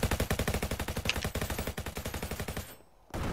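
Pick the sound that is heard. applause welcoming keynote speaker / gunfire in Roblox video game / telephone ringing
gunfire in Roblox video game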